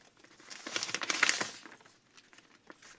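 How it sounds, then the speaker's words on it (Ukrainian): A small paper surprise packet with an anime figure card inside is torn and crinkled open at close range in a brief burst of rustling, then a few faint crinkles follow. "Відкриваємо пакетик."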